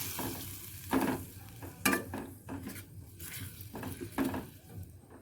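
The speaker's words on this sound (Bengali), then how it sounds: "এরপর মশলাটাকে আমি খুব ভালো করে কষে নেব।" Turmeric and chili powder masala frying in a pan while being stirred, a loud oily sizzle broken by repeated scraping strokes and metal knocks of the spatula, close by and without talk.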